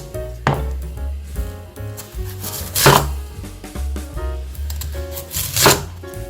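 A knife chops spring Korean radish into roughly 1.5 cm cubes for kkakdugi, giving a steady run of sharp, close board strikes with a few louder hits and no talking.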